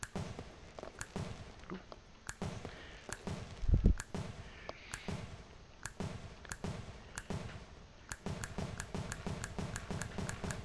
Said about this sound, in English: every time you hit the trigger it would shoot a beam